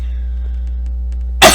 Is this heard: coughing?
yes